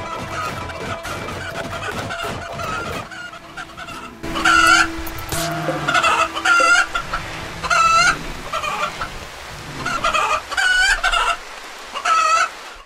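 Chickens in the video game RimWorld cluck in repeated short bursts over a low background, with several loud, close clucking calls spaced a second or two apart.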